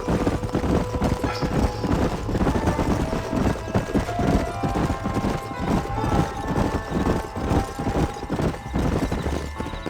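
Steady rhythmic clip-clop of horse hooves in the video game Red Dead Redemption 2 throughout, with an occasional whinny, under a continuous background bed of sound.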